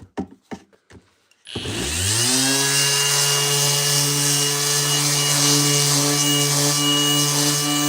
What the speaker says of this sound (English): now 120 with the Bosch sander